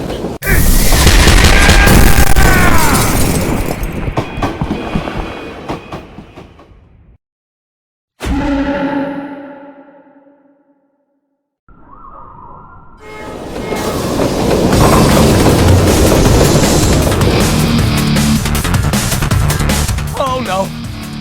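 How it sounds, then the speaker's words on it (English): A train in the video game Strike Force Heroes rumbles and clatters loudly, cutting out twice before the heavy rolling noise returns, with game voices and effects mixed in. "I can't stop the train!"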